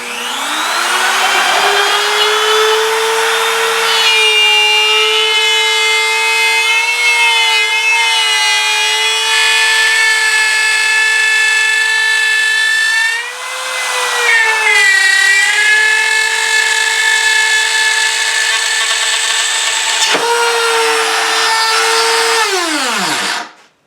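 Power tool cutting a circle in wood with a Milescraft circle guide: a loud, steady high-pitched whine with shifting pitch as the bit bites, a brief dip midway, then a sharp drop as it spins down.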